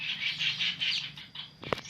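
A caged songbird chirps in a quick run of bright, repeated tweets, followed by a short flutter or scuffle, heard fairly close and fairly quiet with no speech.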